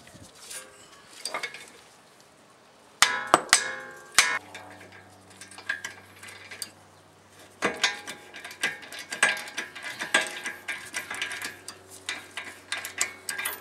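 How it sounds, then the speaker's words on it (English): A 3/8 ratchet on a Brembo brake caliper bolt of an Acura TL is struck with a hammer to break it loose, giving sharp metallic clanks in two clusters amid softer tool clicks and clatter. "put this on here on a 3/8 ratchet and then tap it up with a hammer to break them loose"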